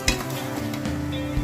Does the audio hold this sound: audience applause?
no